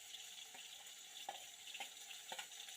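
Crushed shallots and garlic fry in oil in a pan for hotel-style sambar, a soft, steady sizzle with a few light stirring taps, heard up close and with no talking over it.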